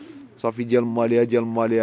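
Racing pigeons, just back from their first official race, coo close by in repeated throaty rolling calls while someone talks over them.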